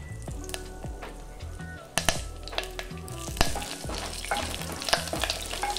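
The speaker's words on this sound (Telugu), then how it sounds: "ఇప్పుడు ఇందులోకి ఒక టీ స్పూన్ పోపు దినుసులు, 2 ఎండుమిరపకాయలు, ఒక 4 వెల్లుల్లి రెబ్బలు," Mustard seeds and other tempering spices, two dry red chillies, four garlic cloves and curry leaves crackle and sizzle loudly in hot oil in a pan for a sorrel leaf chutney, with sharp pops and a few scrapes of stirring.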